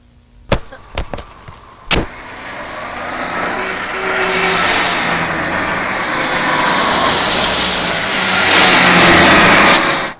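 A car engine runs and builds steadily louder, rising to a strong close roar near the end, after a few sharp clicks at the start.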